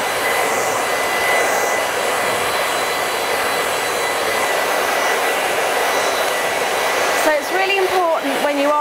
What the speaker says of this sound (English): So I'm just going to blast off a little bit first to get some of this moisture out so it's damp when I start blow drying.